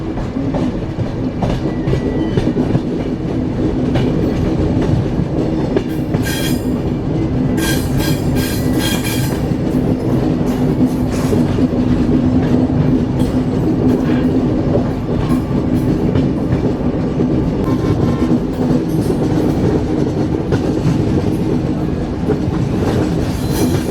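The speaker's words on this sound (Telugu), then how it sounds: "మన ట్రైన్ సేవాగ్రామ్ జంక్షన్ వెళ్ళేటప్పుడు కరువు తీసుకుంటుంది." Passenger train 12791 from Secunderabad to Danapur rolls through a curve near Sevagram Junction, loud rumbling with clickety-clack wheel beats and intermittent high wheel squeals, continuous and close, no talking.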